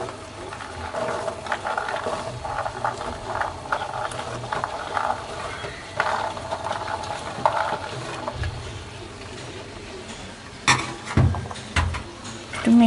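Bean seeds being stirred in a frying pan over medium heat, a steady scraping and sizzling texture running throughout with occasional louder knocks of the spoon near the end.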